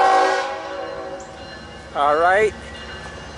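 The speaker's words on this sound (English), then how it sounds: "here comes some engine power" A freight locomotive approaches a station, its deep engine rumble building under a long, loud blast of a multi-tone air horn, with a voice speaking briefly at the start.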